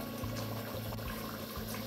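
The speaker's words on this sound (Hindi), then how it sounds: "300 मिलीलीटर वाटर हम और डाल रहे हैं इसमें।" Water poured into a pot of cooking rice with meat and beans, a soft steady splashing trickle, quiet and close, with no talk.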